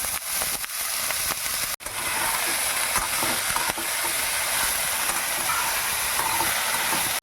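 Washed, drained vegetables frying and hissing loudly in a pan for a curry, a steady close sizzle with one brief break. No one speaks.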